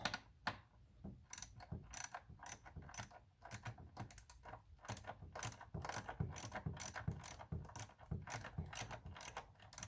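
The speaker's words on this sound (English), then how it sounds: "Now let's get our 10mm deep well back, which is this one right here. Go back to tightening." A ratchet fitted with a 10mm deep well socket tightens a bolt on a 2006 PT Cruiser engine, giving rapid close clicking bursts in an uneven rhythm, alone without talk.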